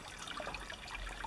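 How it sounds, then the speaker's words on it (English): A small mountain waterfall gives a continuous, even rush of running water, soft and somewhat distant, with no voices. "All you hear is the water. Nice little waterfall."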